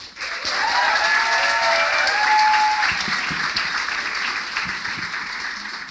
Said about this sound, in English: So give a big round of applause to Kevin.